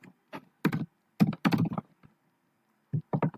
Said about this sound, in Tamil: And I just type facebook.com.